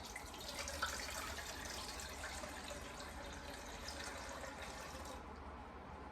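Hot water being poured into a pot to make a double boiler for steaming custard, a steady soft gushing stream that runs continuously before tapering off near the end.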